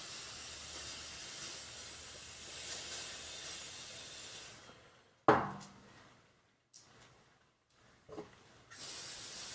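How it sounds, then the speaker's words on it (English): WD-40 aerosol can spraying, a steady faint hiss that stops midway, followed by a sharp clack and a few short bursts of spray. "Next is the WD-40."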